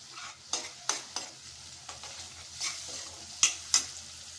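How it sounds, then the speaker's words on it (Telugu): Onions and turmeric frying in a pan for bottle gourd curry, a soft steady sizzle broken by several sharp scraping stir strokes, close and alone with no voices. "ఎర్రగయ్యే వరకు వేయించుకుందామండి."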